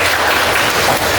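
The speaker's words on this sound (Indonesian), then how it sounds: "kita berikan tepuk tangan dulu" Brief burst of dense clapping from a group in a classroom session, loud and continuous throughout the short moment.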